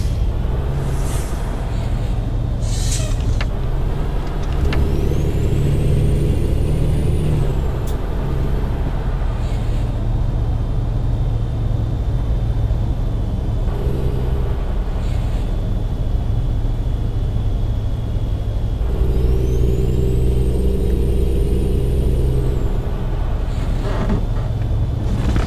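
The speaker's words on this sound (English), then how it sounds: "This Cummins does sound pretty good in this truck." A deep Cummins diesel truck engine in American Truck Simulator rumbles steadily, revving up and easing back a few times, with occasional hissing and shifting sounds.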